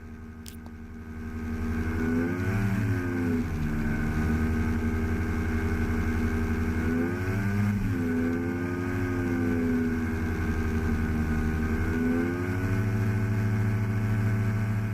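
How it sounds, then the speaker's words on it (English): A light aircraft engine drones close and loud in flight, its pitch rising and falling several times as the throttle is eased up and down during a crosswind approach. "You might hear me up and down on the throttle a bit."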